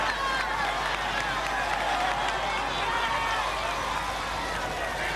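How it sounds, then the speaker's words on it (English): American fans at the 2006 Tour de France final stage into Paris cheer for Floyd Landis, a steady crowd roar with clapping and shouts under continuous race commentary. "There's the American contingent cheering for Floyd Landis."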